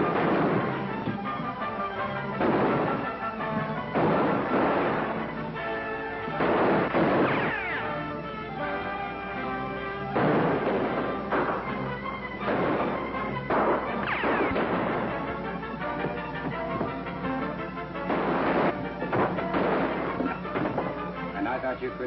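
Gunfire rings out in a western film shootout: repeated sharp shots and booming reports scattered irregularly over twenty seconds amid dramatic orchestral music, recorded with a muffled, old-soundtrack quality.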